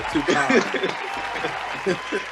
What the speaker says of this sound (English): We gotta clap it in like that, brother.